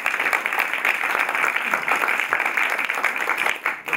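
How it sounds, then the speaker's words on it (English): Sustained audience applause at a stage arts talk, steady and dense clapping from a crowd filling the room at even loudness throughout. "So a round of applause for Baker's Man."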